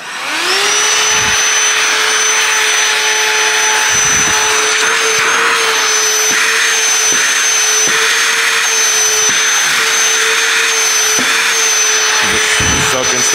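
A cordless DeWalt dry-only hand vacuum switches on and runs steadily at a constant high-pitched whine with airy motor rush, close up and fairly loud, with faint bumps and handling knocks underneath and no speech.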